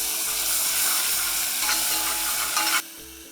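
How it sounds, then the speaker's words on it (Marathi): Crushed garlic, green chili and cumin paste sautéing in hot oil, a dense, loud, close sizzle with stirring that cuts off abruptly near the end, leaving a faint low hum. "आता यामध्ये घालायचं आहे ठेचा लसूण मिरची आणि जिऱ्याचा ठेचा घालायचा आणि याला दोन मिनटासाठी परतून घ्यायचा"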